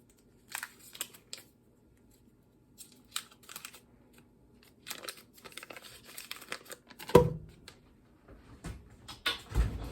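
Packaged butter tablespoons are unwrapped up close, giving scattered crinkling and tearing of wrapper paper in short irregular bursts, with one sharper rip near the end.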